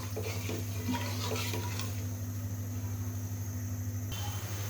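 Eggplant gravy with spices bubbles on the boil, a low steady simmer under a constant hum, with livelier bubbling at first.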